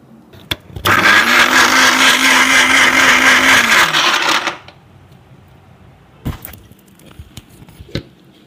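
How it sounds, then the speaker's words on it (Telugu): A mixer grinder whirs loudly for about four seconds as it grinds coconut chutney with added water, its motor note steady, then stops; a few clunks and taps follow in the quiet. "ఇప్పుడు మన చట్నీని కొంచెం బార్కగా గ్రైండ్ చేసుకుందాం."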